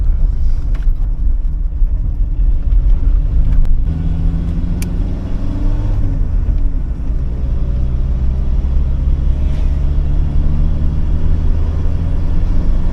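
A classic Fiat driving on a road near Barcelona, Spain, its engine a loud, steady low rumble with road noise throughout, with slight shifts in pitch as it changes speed.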